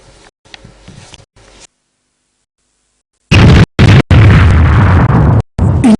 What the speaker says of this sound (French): Une explosion entendue dans toute la ville.